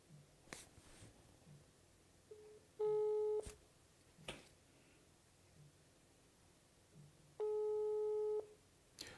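Two telephone busy-signal tones on an unanswered call, each a steady beep lasting under a second, spaced several seconds apart over quiet background noise with faint handling clicks.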